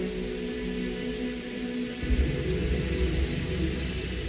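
Retroact rain falling in the Wuthering Waves video game: a steady, even hiss of rain, with a deeper low rumble swelling in about halfway through and continuing to the end. No voices are heard.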